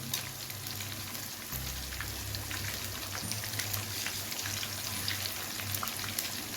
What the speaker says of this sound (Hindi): ये भी फ्राई हो रहे हैं